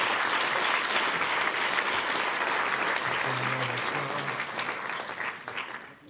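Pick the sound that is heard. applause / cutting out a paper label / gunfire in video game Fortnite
applause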